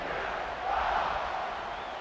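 Stadium crowd in the College Football 26 video game cheering in a broad, continuous roar that swells briefly in the middle before settling back to a steady hum.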